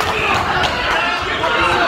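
Sold-out crowd at a Golden Gloves boxing match in Fall River, Massachusetts, a dense steady roar of chatter and cheering filling the hall, loud and continuous with no single voice standing out.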